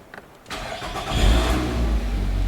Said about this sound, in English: I'm gonna start the engine.